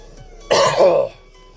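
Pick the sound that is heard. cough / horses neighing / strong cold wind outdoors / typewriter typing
cough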